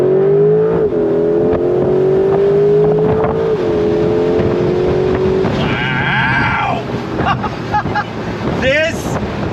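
A 2025 Porsche 911 Carrera GTS T-Hybrid accelerates hard under throttle, its engine note climbing steadily through the gears, then rising to a higher whine as wind rushes loudly past the microphone.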